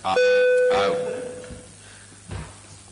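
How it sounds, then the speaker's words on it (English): A gong is struck once during a committee meeting, giving a bright ringing tone that slowly decays, followed by a softer second hit near the end; no speech over it. "Seems to be bringing a gong there."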